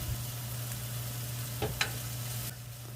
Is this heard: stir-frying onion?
yes